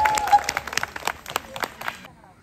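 Audience applause at a wedding celebration, a burst of clapping from a crowd that thins out and fades toward the end, with a voice over it.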